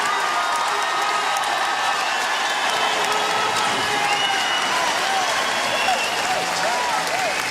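A badminton arena crowd at a world championship semifinal gives a standing ovation, with sustained loud applause and cheering throughout and a commentator's voice faintly under it.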